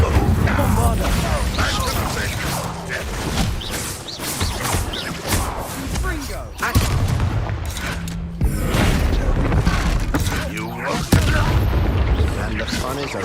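Bombarda blasting spells from the wizarding game Hogwarts Legacy, a series of heavy booming explosions and crashes repeating over several seconds, mixed with combat sounds and a voice.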